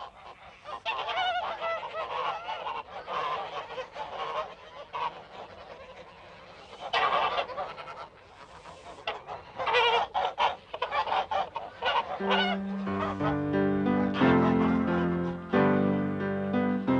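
A flock of geese in Gascony honks repeatedly in a loud, overlapping chorus of nasal calls, with steady tonal music entering toward the end.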